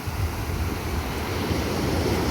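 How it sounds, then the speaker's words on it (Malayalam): A small sea wave washes up onto a sandy beach in a soft, continuous rushing swash, mixed with steady wind noise and no talk. "ചെറിയൊരു തിര വന്നു പോയി"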